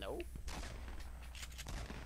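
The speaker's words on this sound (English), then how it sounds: "I hear gunshots." Gunfire in the battle royale game Fortnite, heard as a quick burst of several sharp shots over about two seconds, fairly faint and distant-sounding against the game's background noise.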